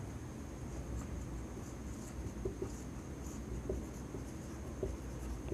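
A pen scratches steadily across paper as notes are written during a biology lecture on breathing and gas exchange. The soft strokes and taps go on for several seconds over a faint background hiss, with no speech.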